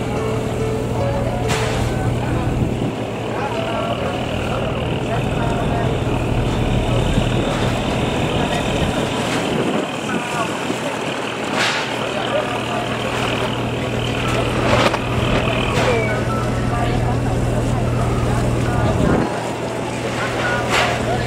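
Quang Ngai trawler fishing boats in a busy Da Nang harbor, a low steady engine hum running throughout under someone speaking, with wind buffeting and occasional knocks and clatter.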